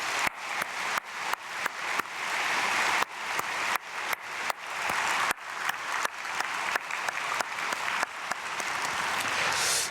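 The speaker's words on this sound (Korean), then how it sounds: "우리 박수로 축복하겠습니다." A church congregation at a Myungsung Church dawn prayer service claps together in a blessing. The applause is steady and full-room, running for about ten seconds with many overlapping hands and no voices on top.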